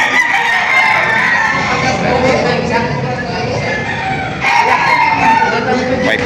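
Roosters crowing and clucking at the Padre Garcia livestock auction in Batangas, loud and close, with repeated calls over crowd murmur and people talking nearby.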